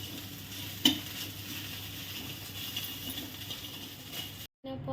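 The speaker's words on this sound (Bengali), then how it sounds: "আর একজন হচ্ছে ডিম ভাজছে আমার জন্য" Eggs frying in a home kitchen pan give a steady, close sizzle heard alone, with one brief clatter near the start before the sound cuts off abruptly at the end.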